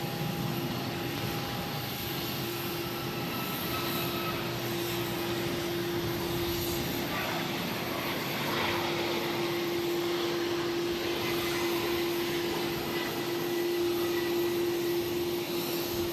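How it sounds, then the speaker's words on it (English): Aer Lingus airliner taxiing to the international terminal at Boston Logan airport, a steady engine whine and broad roar with a sustained tonal hum, continuous over the whole stretch and fairly distant, with no talk. "At Aer Lingus now taxiing over to the international terminal"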